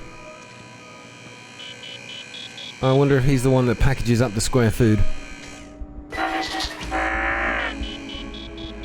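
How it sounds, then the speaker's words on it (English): Someone speaks briefly, then a small robotic rover in Starfield lets out a burst of buzzy electronic beeps and warbling tones, fairly loud. "Assertive beeping."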